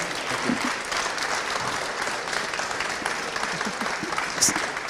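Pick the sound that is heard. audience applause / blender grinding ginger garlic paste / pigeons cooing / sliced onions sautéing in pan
audience applause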